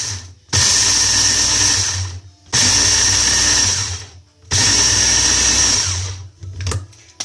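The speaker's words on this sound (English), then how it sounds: "I use a Ninja, but any food processor is going to work for this." A Ninja food processor grinds Brazil nuts into flour in three loud, steady whirring bursts of about two seconds each, separated by short pauses, with a faint rattle at the end.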